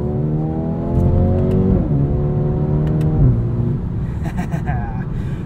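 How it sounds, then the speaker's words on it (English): A 2020 Mercedes-AMG A35 sedan's turbocharged four-cylinder, about 300 horsepower, revs up through rising tones, drops between dual-clutch gear shifts and climbs again, heard from inside the cabin, with brief speech at the end. "These small turbocharged four cylinders that are tuned to about 300 horsepower"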